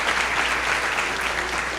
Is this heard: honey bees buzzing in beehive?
no